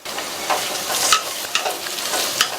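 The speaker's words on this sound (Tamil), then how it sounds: "அடுத்து இதுல கொஞ்சமா ஒரு 6-7 புதினா இலைகளும் கொஞ்சமா கொத்தமல்லி இலையும் சேர்த்து" Mint and coriander leaves sautéing in a hot pan, a steady crackling sizzle with a few sharper scraping stirs, close and moderately loud, no voices.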